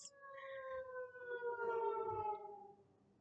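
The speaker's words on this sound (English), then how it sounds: "Sirens." A distant siren wails in one long, smooth, slowly falling tone that fades out at the end, faint and alone with no voices over it.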